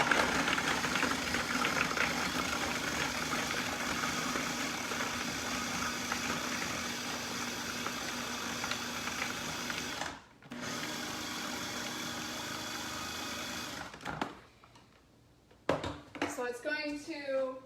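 A blender whirs steadily and loudly as it blends avocado and frozen berries, a continuous motor drone that cuts out briefly, runs again, then stops before a voice speaks at the end.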